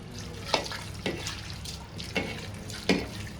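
Hot water is poured in several short splashing bursts into Hyderabadi chicken dum biryani masala, close and moderately loud over a low background, with no talking.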